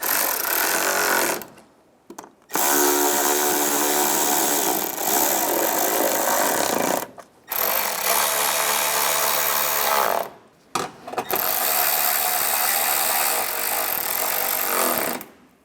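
Power tool driving the headlight assembly bolts on a 2011-2015 Chevrolet Cruze, a loud buzzing whir in three long bursts separated by brief silent pauses, close by.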